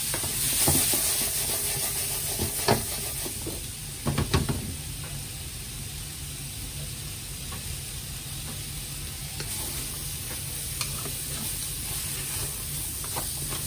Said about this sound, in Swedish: vi låter den fräsa ett par minuter bara.